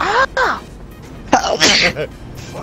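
A single sneeze bursts out near the start, loud and close, followed by people talking and a further short exclamation during play of the GTA V game session.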